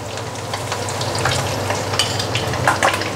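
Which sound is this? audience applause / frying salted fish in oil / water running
frying salted fish in oil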